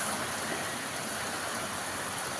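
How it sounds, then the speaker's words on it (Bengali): Heavy torrential rain pours down in a steady, dense wash of hiss and patter, continuous and fairly close, with no talk. "অ্যাট লাস্ট ফাইনালি আমাদের এখানে মুষলধারে বৃষ্টি"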